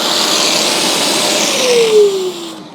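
A Bissell Little Green Pro carpet spot cleaner runs with a loud, steady motor whine and suction hiss, its pitch falling as it spins down near the end.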